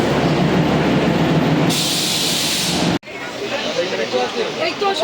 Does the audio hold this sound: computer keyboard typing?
no